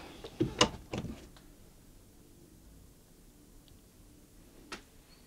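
A recording studio's second door to the vocal booth swinging shut, a couple of close thuds and latch clicks followed by near silence, with one more faint knock after a pause.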